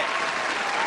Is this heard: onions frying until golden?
no